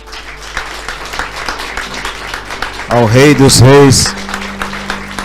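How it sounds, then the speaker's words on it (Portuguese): A church congregation claps steadily throughout, a crackle of many hands under a man's loud, impassioned voice praising God over a microphone. "Vamos dar uma salva de palmas a Jesus"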